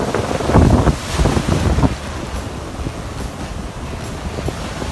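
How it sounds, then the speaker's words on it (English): Strong ocean waves surge and crash on a shore, loudest in the first two seconds, then settling into a steady rushing wash mixed with wind noise on the microphone. "never turn your back to the waves."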